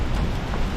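Steady rain falls on a weekend morning, a continuous dense hiss of drops at even loudness with no break.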